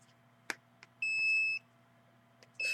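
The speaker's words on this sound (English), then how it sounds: "That's a cell phone opening the Twitter account." A cell phone gives a steady electronic tone lasting about half a second while the Twitter app opens, with scattered faint clicks before it and a second tone starting near the end, in a quiet room.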